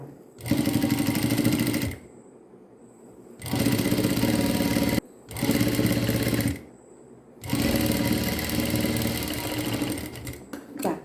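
A sewing machine stitching a folded-in skirt hem runs in three loud, steady bursts of rapid mechanical whirring, separated by short quiet pauses.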